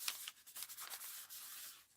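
Faint, soft scratchy rubbing of a used towel over paint, including phthalo green, on a drawing of animals, in a continuous stroking rhythm with no talking.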